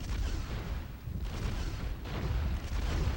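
Enemies blowing up in the video game Drakan: The Ancients' Gates, a dense, continuous rumble of booming blasts and gunfire-like bursts that stays loud throughout with no talk over it.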